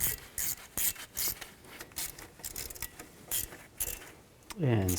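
Wrench and ratchet work on the front upper control arm and bracket of a 1999-07 Chevy Silverado 2500, with repeated clicking, metallic rasping and clanks at close range, and a brief low tonal sound near the end.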